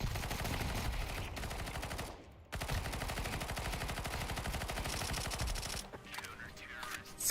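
Rapid sustained PP-Bizon submachine gun fire in a competitive shooter match on Faceit, long dense bursts of close, loud shots with a couple of brief pauses and faint voices underneath.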